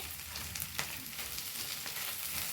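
Well-cooked chana dal is stirred in a pan, making a soft, continuous sizzle with faint scraping touches, quiet and close with no talk.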